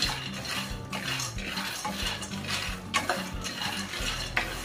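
Peanuts being roasted and stirred in a pan over a flame, with continuous scraping and clinking of a spoon against the pan and soft rattling of the nuts, close and moderate in level.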